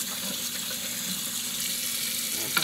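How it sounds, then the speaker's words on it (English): Food being rinsed under a running kitchen tap: a steady, hissing stream of water that splashes continuously, close and fairly loud, with no speech. "we're just going to rinse them again to make sure that they're clean"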